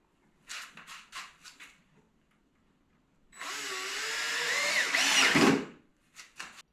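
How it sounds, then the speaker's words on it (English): A power drill drives screws into a wooden table saw sled, with short bursts of the motor, then a longer sustained whine that loads up as a screw seats, followed by brief trigger pulses. "And now I'm going to put the screws in."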